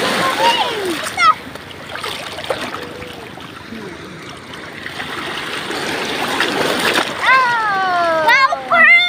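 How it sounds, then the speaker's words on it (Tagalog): Seawater splashes and washes continuously at a beach in Bauang, La Union, a close, steady churning wash with children and adults talking over it. "nagtatalbig yung tubig"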